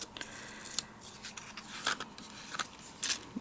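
Scissors snip through a paper die-cut folder in a card-making setup, a handful of short crisp cuts at uneven intervals, close and fairly quiet, with no voices.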